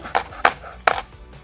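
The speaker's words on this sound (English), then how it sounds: "This is gonna be a very fine dice, because I don't like big chunks of onions in my mouth" A kitchen knife chops an onion into a fine dice on a cutting board: three crisp, separate thuds in quick succession, close and distinct, with no talking.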